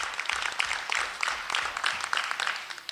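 An audience at a school board candidates forum applauds with a dense patter of many hands clapping for a few seconds.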